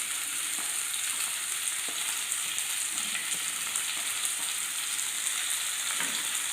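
Onion, ginger, garlic and green chilli fry in oil for a beef fry, a steady close sizzle with occasional soft stirring knocks, no voices.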